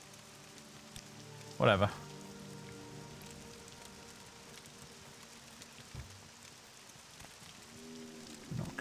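Soft, steady rain patters in the game Morrowind as a faint hiss under the scene, with a voice briefly speaking and a few louder in-game thumps and tones breaking through.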